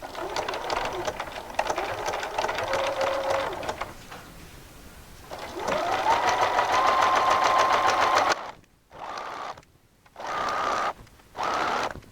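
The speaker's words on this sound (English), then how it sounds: "now we are ready to sew sleeves to the back" A sewing machine runs in long steady bursts while stitching raglan sleeves onto the back of a dress. Its whirring hum rises and falls, then breaks into shorter start-stop runs separated by brief silences.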